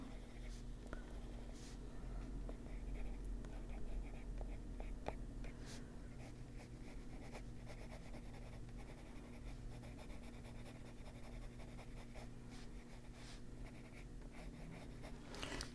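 Colored pencil shading on paper in an adult coloring book: a faint, continuous scratchy scribbling, close up, with soft breathing and no talk.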